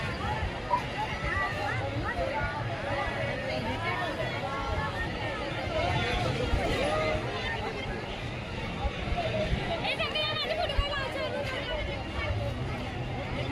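Dense crowd chatter at the Mahashivratri fair in Ambernath, a constant babble of many voices with scattered shouts and clatter throughout.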